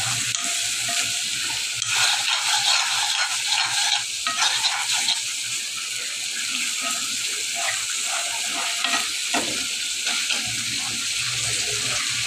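Dried fish (shutki) fries and is stirred in a pan, a loud continuous sizzle with scraping and stirring strokes throughout, close and steady without a break.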